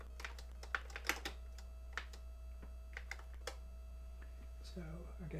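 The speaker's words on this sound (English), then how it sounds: "Keep nearly typing at my PC rather than the Famicom." Keystrokes on a PC computer keyboard, a quick irregular patter of clicks close by at moderate level over a steady low hum, pausing briefly and picking up again, with faint talk near the end.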